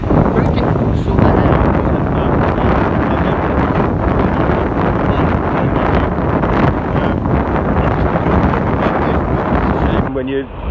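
Strong, constant wind buffets the microphone on a chilly, breezy morning ride along a park and beach front in Bognor Regis on an Evolve Bamboo GTR electric skateboard, a loud rumbling roar that fills the whole stretch.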